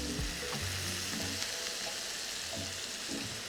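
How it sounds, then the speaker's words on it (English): Ribbons of squash pappardelle sizzle steadily in a hot frying pan, a continuous crackling fry with occasional stirring and tossing thumps, close and clear with no talk. "in we go with this lovely squash pappardelle. Nice little sizzle, that's good."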